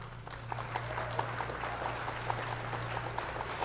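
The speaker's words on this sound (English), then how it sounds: "join me in a round of applause" A crowd at a 2020 high school commencement claps steadily throughout, a moderate wash of applause from many hands.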